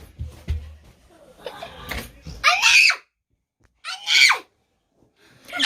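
A child at home screams in two sharp, loud bursts after some muffled talk and rustling, with short silences between the shrieks.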